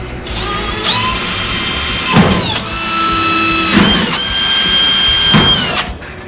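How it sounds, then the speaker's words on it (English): A power drill bores pilot holes for hot rod gas tank mounts, whining in several bursts of steady high-pitched spinning, each cut ending in a short grinding crunch, close and loud. "Alright, let's see about drilling some pilot holes."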